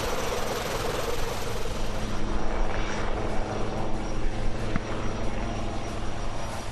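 A formation of Indian military helicopters, Dhruv utility and Rudra combat types, roars overhead during an air force exercise: a steady, loud rotor and engine drone that swells slightly midway, with no voices.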